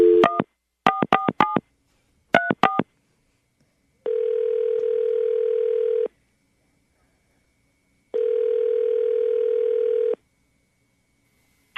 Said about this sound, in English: Marshall, we're going to call her right now and see if we can get her on the phone